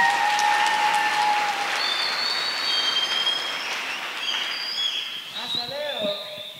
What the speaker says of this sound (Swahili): Nipigieni makofi mimi nimefanya.